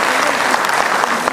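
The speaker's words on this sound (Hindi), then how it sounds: "एक बार जोरदार तालियां बजा दीजिए" An audience claps at a Cancer Survivors Day ceremony in a hall, brief, loud and dense applause that is sustained for the whole moment.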